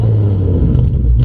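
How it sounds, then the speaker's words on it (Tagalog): A modified Ford Mustang V6 with a Shelby-inspired build revs through its muffler, giving a loud, close, steady low exhaust rumble that swells slightly near the end. "I'm sure familiar na kayo sa tunog ng ano, ng netong Mustang"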